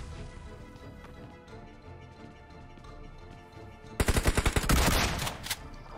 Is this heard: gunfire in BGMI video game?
yes